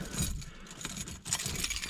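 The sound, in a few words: car keys being taken out, jangling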